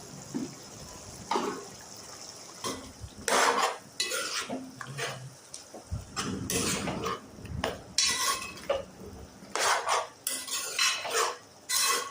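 Mutton curry with ginger garlic paste and tomatoes being stirred in a metal pot, with repeated clinks and scrapes of a spoon against the pot in irregular bursts, close and fairly quiet, some liquid sloshing, no speech.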